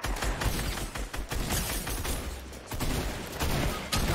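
Rapid bursts of gunfire from the battle royale video game Fortnite, loud and dense, with repeated volleys across the whole stretch and brief gaps between them.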